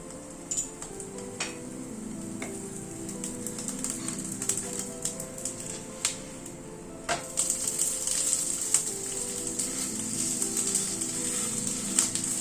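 Oil sprinkled over a lentil pancake cooking in a pan gives a faint, steady sizzle with scattered light ticks and pops, growing a little louder partway through.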